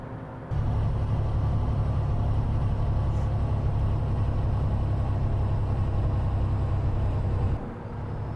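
A Cat CT660 truck's engine brake in American Truck Simulator roars in a loud, continuous low rumble for several seconds, then cuts off abruptly.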